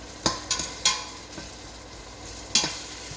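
A spice mix fries in a generous amount of hot oil in a pan, with a soft continuous sizzle broken by a few sharp scraping stirs, close up and with no voices.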